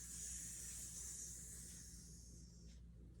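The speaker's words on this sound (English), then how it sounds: "Kind of sounds like we're letting air out of a balloon." A beginners yoga class breathing out forcefully together, a long airy hiss like air escaping a balloon that holds steady for over two seconds, then fades out.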